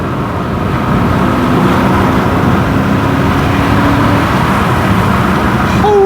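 An MG ZT 260 fitted with a Ford Mustang V8 engine drives along, its engine a loud, steady low rumble heard from inside the cabin, with road noise underneath and no talk.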